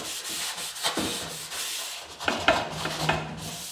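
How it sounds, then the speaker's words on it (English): A rag scrubs across a welded sheet metal panel during primer prep for a retro-styled electric car build, giving irregular rubbing and wiping strokes with a few sharper scuffs, close and fairly loud, with no talking. "Keep washing until it comes off clean."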